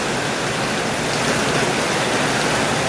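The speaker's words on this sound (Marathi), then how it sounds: "खूप जोराचा पाऊस दिसतोय बघा." Heavy monsoon rain with thunderstorm pours down in a dense, steady roar, loud and unbroken with no voices.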